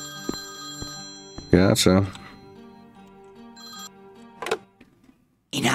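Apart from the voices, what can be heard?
telephone ringing in video game Priest Simulator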